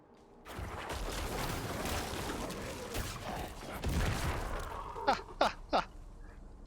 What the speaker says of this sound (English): Corpse Explosion still works great